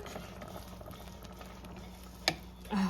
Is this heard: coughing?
no